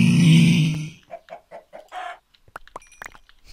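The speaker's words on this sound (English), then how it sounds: "Oh, it's a jockey chicken." Chicken jockey clucking in the Nether in Minecraft: a loud burst of game noise first, then a rapid run of five or six close, clear clucks, followed by sharp clicking game sounds.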